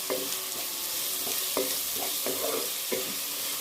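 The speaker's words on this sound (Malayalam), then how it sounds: "ഇനി നമ്മൾ അടിച്ചു വെച്ചിരിക്കുന്ന വെളുത്തുള്ളിയും പച്ചമുളകും കൂടി നമുക്ക് ഇതിനകത്തേക്ക് ആഡ് ചെയ്യാം" Crushed garlic and green chillies fry in hot oil for a bilimbi pickle, a steady sizzle broken by rhythmic scraping strokes of a stirring spoon, close and fairly loud.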